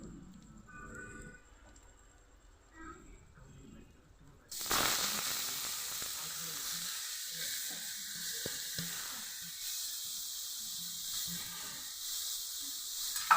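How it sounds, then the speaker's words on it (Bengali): Grated carrot tipped into hot ghee with cardamom, a sudden loud sizzle that bursts in partway through and then holds as a steady hiss with small crackles after a quiet lead-in. "এবার আমি গ্রেট করা গাজরটা এর মধ্যে দিয়ে দেবো।"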